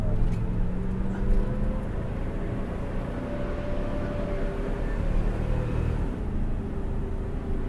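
A 2002 Chevy 3500 truck with 311,000 miles and a rebuilt transmission drives along, its low engine rumble steady and close, with a subtle change as it shifts gears.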